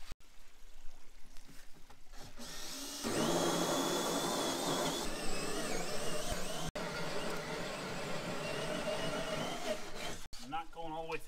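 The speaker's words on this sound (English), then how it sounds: "And then I'll drill from here." A power drill bores a pilot hole into wood for a backyard pond project, whirring steadily for several seconds at moderate distance, with people talking before and after.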